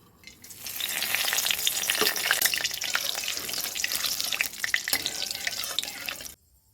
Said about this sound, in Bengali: তেল আমার গরম হয়ে গেছে এখন আমি ফোড়ন দেবো